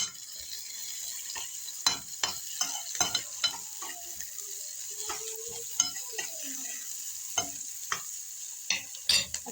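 Onions fry in a pan with chili added, giving a faint, steady sizzle broken by light clicks and scrapes of a spoon stirring.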